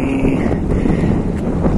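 Steady gusty wind roars into the microphone at a seaside fishing spot, a loud, constant low rumble with no voices.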